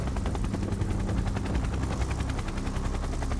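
Military helicopter of the Indian Air Force idling at a helipad while soldiers load supplies, a loud close rapid rotor chop pulsing steadily throughout with deep engine rumble.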